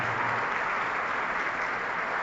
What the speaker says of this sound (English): give a big round of applause for our student ambassadors